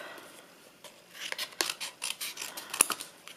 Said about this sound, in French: je viens grossièrement détailler mes éléments pour ensuite les découper